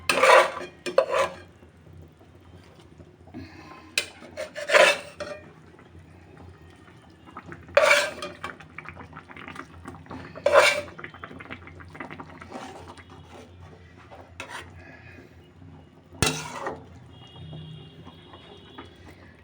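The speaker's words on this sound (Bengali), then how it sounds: "এখন আমি এখান থেকে এই মাছগুলো এক এক করে সব দিয়ে দেব।" Rohu fish pieces dropped one by one into a pan of boiling curry broth, with a series of spaced clattering metal utensil knocks and splashes over a soft simmer.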